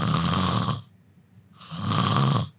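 A person imitates loud snoring with two long, rough, rattling snores separated by a short quiet breath gap, close and alone.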